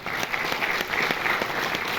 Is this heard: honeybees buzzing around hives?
no